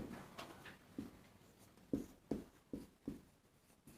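A pen writes on paper during a maths lesson, making faint, close scratching strokes broken by several light taps in an irregular rhythm, with no speech.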